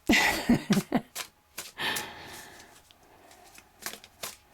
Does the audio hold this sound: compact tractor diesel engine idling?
no